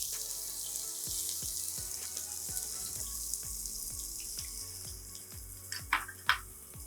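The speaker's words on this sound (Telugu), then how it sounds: "ఓకే, సో లైట్గా బ్రౌన్ అయ్యే వరకు మనం సాటే చేసుకోవాలండి ఆనియన్స్" Sliced onions frying in hot oil in a pan in a hotel kitchen, a steady soft sizzle with occasional clicks and utensil clinks, no talk over it.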